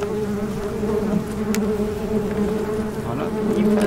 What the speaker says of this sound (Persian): بازم دیگه زنبور خیلی وقت باز نشده عصبیه